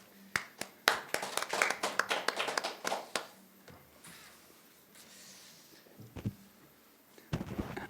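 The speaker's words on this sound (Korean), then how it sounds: "김정희 교수님을 큰 박수로 환영해 주시기 바랍니다." A forum audience greets the speaker with clapping, a burst of sharp, scattered claps that thins out into a few last claps.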